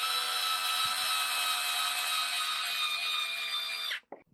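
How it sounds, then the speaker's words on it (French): An electric screwdriver whirs steadily for about four seconds while driving screws into parts of an Xray XT2 RC car differential and transmission, then stops with a couple of small clicks, close and alone. "comme on y va à la visseuse, on y va tout cool, on s'arrête vraiment contre ou avant"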